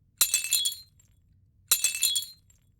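Glass cracking effect: two separate bright bursts of crackling, tinkling glass, each about half a second long, with near silence between them.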